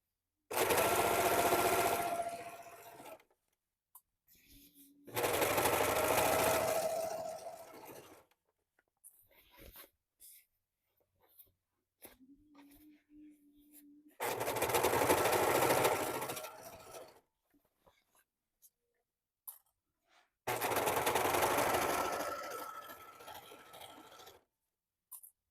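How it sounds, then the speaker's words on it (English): A sewing machine runs in four separate bursts of a few seconds each, stitching a seam on a raincoat, with quiet handling and fabric rustles between the runs. "And we're going to sew this across here."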